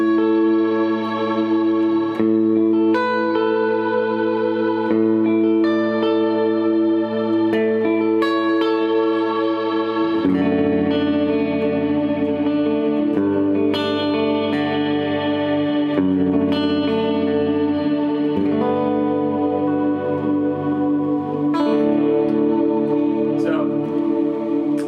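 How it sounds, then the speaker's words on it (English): Electric guitar playing sustained chords and arpeggios through a large cloud-style reverb pedal set for ambient sound, notes blooming and washing together continuously for the whole stretch, loud and close with no talk. "I segue that into a bigger cloud reverb, which is my my ambient setting"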